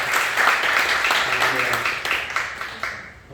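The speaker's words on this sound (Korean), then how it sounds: "한번 여러분이 다 아시는 박수로 환영합니다" Church congregation at a Sunday service clapping to welcome guests, a sustained crowd of hands that fades out near the end, with a voice speaking over the applause.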